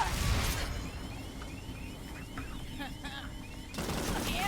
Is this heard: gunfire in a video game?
yes